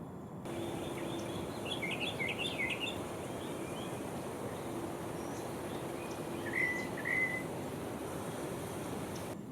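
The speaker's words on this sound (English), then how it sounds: "completing that family presence were tropical mockingbirds, rather common in mangroves and scrub around the hotel" Tropical mockingbirds give short bursts of chirping calls from mangroves and scrub on Ambergris Caye, Belize, fairly distant and faint over a soft, constant wash of surf.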